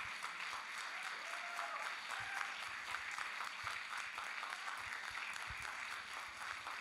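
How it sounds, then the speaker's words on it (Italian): An audience at a live music show applauds a performer: a steady, even wash of clapping that holds at moderate loudness from start to finish. "A te un grande applauso, la Franci."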